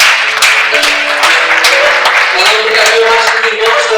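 A church audience gives loud, sustained applause to welcome a pastor at a workshop gathering. The clapping is dense and continuous, with faint music or crowd noise beneath it.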